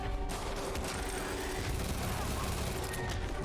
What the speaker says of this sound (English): He works by shooting me.